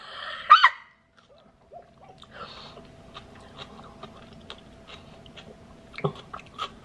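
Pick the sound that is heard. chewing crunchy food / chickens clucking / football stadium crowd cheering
chewing crunchy food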